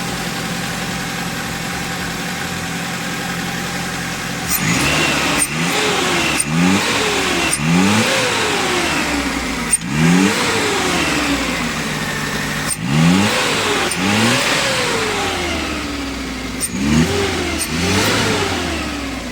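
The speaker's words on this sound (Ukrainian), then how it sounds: "все, тросик газу зробив, вантажівочка на ходу" A small truck's engine, running again after a throttle cable repair, revs repeatedly in rising and falling bursts over a steady idle, loud and close.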